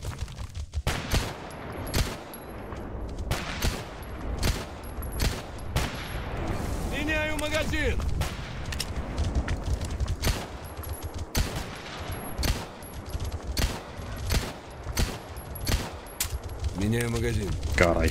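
Gunfire in Stalker GAMMA aimed at a wild boar: loud single shots and short bursts ring out irregularly across the stretch, with squealing animal cries and game ambience between them.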